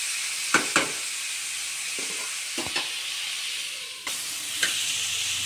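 Steady frying hiss from a pan for home-made Bengali rosha, with a few soft clicks of a spoon stirring and a brief dip before the sizzle swells again; no voice.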